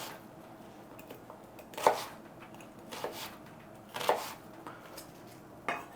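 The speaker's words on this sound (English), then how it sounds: "just give these two a relatively rough chop" A knife rough-chops orange habanero peppers and other hot sauce ingredients on a board, a few sparse, fairly quiet thuds spaced a second or two apart against a low, quiet room background.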